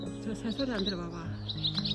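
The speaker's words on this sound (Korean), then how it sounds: "새소리." Bright bird chirps and tweets ring out on a flowering spring day as birds come to feed, several quick calls rising over a low steady drone while voices talk close by.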